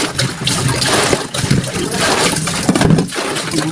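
Tap water running steadily while dishes are washed in a home kitchen, a loud, close, continuous rush and splash with small clatters, and no talking.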